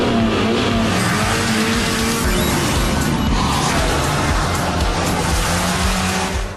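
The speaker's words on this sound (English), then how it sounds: "Ford has managed to squeeze a 2-litre engine into this thing, and it is really, really keen to please." A Ford Fiesta ST hot hatchback's 2-litre engine revs hard and continuously while driving at speed, with road and wind roar filling the background throughout.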